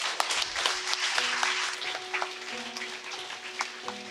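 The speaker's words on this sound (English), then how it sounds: "Please give them a round of applause." A school audience at Nadi Sangam Primary applauds new ROG ambassadors with scattered hand clapping across the room, moderate and ongoing, while faint tonal sounds sit underneath.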